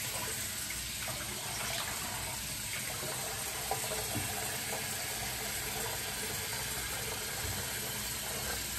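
Water runs steadily from a sink tap while a face is rinsed after a shave, a constant close wash of sound with no talking.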